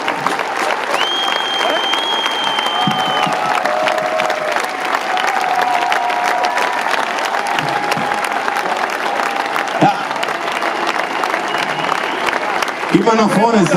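A large crowd at a rock concert in Ochtrup claps and cheers steadily and loudly throughout, with whistles and shouts rising above the sustained applause and a few drum hits near the end.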